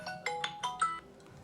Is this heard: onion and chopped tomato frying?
no